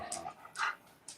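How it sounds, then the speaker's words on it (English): A dog indoors pants and whimpers softly nearby in a few brief breathy, whiny bursts, quiet and unaccompanied by speech. "that's my dog, Rooney."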